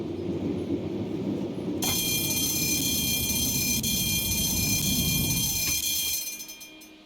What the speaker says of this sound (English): I'm gonna do an emergency brake on the third section here.